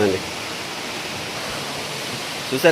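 Hillside waterfall near a temple roaring in a continuous broadband wash, with a brief voice at the start and again at the very end.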